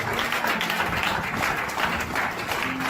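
A church congregation applauds at a sermon, a steady, dense wash of clapping that carries on without a break for several seconds at close range.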